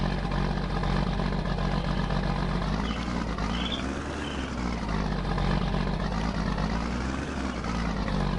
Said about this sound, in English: Oh, I love this tractor. It's just, the exhaust tone on it is just so nice.